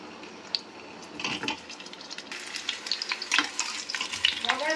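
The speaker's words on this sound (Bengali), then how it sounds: "এটা আমি সর্ষের তেলে রান্না করছি" Pointed gourd pieces sizzle in mustard oil in a wok, a soft crackling fry with clacks from stirring that grows busier and louder toward the end.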